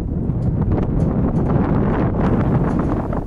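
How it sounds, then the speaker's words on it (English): Strong wind buffets the microphone in a steady, loud rumble, with gusty roaring and no voices. "Yep, still windy."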